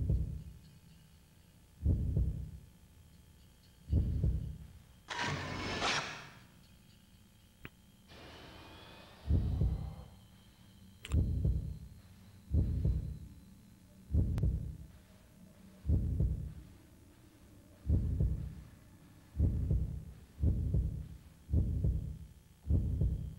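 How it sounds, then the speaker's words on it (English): A steady, deep heartbeat throbs in a slow, regular rhythm in the horror video game Fatal Frame II, broken midway by a loud rushing whoosh and a fading eerie sweep. "This heartbeat sound that you're hearing"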